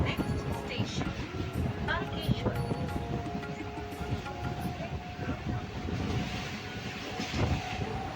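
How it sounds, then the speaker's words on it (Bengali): The Howrah to Goghat local train pulls out of Loknath station, heard from inside the carriage as a steady, moderately loud rumble with wheel rattle and clatter throughout, with faint voices in the background. "আমাদের এই ট্রেনটা লোকনাথ স্টেশন ছেড়ে চলে যাচ্ছে"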